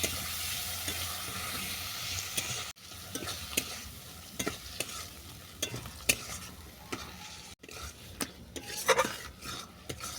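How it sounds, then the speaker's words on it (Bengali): Spices sizzling in hot oil in a pan for watermelon curry, stirred repeatedly with a utensil, giving irregular scraping clicks over a steady frying hiss, close and clear. "এই সব মশলা আমি ভালো করে কষিয়ে নেব।"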